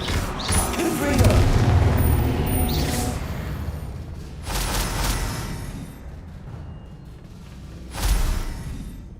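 Confringo blasting-spell explosions in the video game Hogwarts Legacy, several booming bursts spaced a few seconds apart, each with a rumbling tail, mixed with a man calling out spells.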